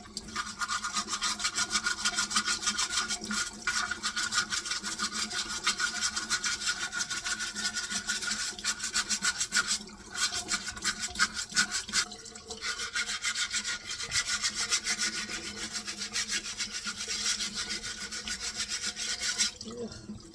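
A dishwasher filter screen being scrubbed during a deep clean, a continuous close, loud rasping brush-on-mesh scraping with quick back-and-forth strokes, briefly pausing a couple of times and carrying on without talk.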